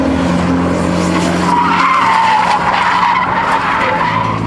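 A car drifts with its tires skidding and squealing in a long, loud continuous screech over a droning engine, close by and steady throughout.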